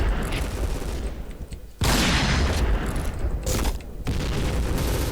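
Sniper rifle shots in the online shooter Point Blank, loud sharp booming reports with sudden onsets over continuous game noise.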